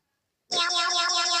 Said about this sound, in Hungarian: Meg itt van még egy macska.